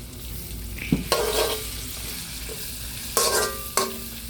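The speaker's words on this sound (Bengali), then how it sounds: "রসুন আর পেঁয়াজ তেলের সাথে ভালোভাবে মিশিয়ে নিতে হবে" Garlic and onion fry in oil, a quiet steady sizzle broken by a few loud bursts of crackling as the pan is stirred, with no voices present.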